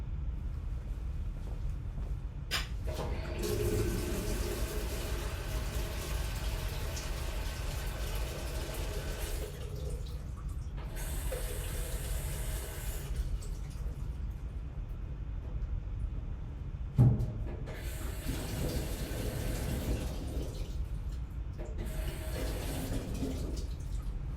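Water runs into a bucket being filled to a marked level for mixing plaster, a steady splashing pour that stops and restarts in separate bursts, close and moderately loud.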